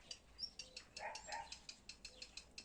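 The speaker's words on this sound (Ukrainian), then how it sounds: "Це зеленушка, вони теж по кущам," A greenfinch calls from garden bushes in soft, repeated chirps and twittering trills, fairly faint against light background noise, with no talk.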